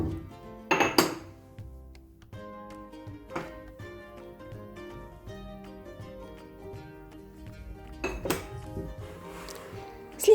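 A large 5-litre pot clinks and scrapes as honey, sugar and spices are stirred together for gingerbread dough, with a few sharp metallic knocks amid softer clatter and a low background hum, and no talking.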